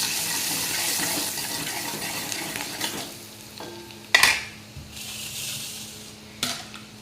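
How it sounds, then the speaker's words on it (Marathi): Red chili powder, turmeric and salt frying in a pan for a ridge gourd dish, a hissing sizzle that fades, followed by a few sharp utensil knocks and quieter stirring. "हे लाल तिखट, हळद, मीठ टाकून घेऊ आपण। ते पण चांगलं परतून घेऊ।"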